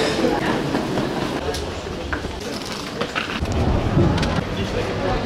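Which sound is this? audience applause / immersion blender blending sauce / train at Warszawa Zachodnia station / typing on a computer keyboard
train at Warszawa Zachodnia station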